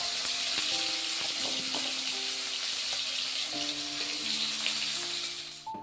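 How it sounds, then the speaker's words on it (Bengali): Cut potato pieces fry in hot oil in a kadai, giving a constant bright hiss of bubbling oil, with faint melodic tones running quietly underneath. "এরপর টুকরো করে কাটা আলু আমরা এটাকে ভালো করে লাল লাল করে ভেজে নেব।"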